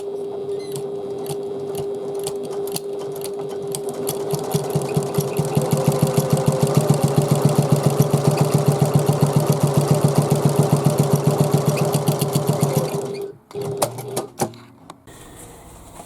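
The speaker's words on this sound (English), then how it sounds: "stitch along the bottom using a 1/4 inch seam allowance" A sewing machine stitching a quarter-inch seam along the bottom of a bag panel runs in a fast, steady mechanical whir of needle strokes for about thirteen seconds, then stops with a few clicks and handling sounds, close and loud.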